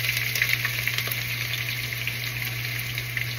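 Onion and cloves frying in hot oil for bhuna khichuri produce a continuous, even sizzle with faint crackles, heard up close over a steady low hum, with no one speaking.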